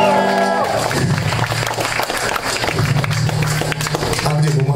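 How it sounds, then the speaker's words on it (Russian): A concert crowd applauding a rock band, thick rapid clapping and cheering that fills the hall, with some talk and a sustained tone running beneath. "Ваши бурные аплодисменты!"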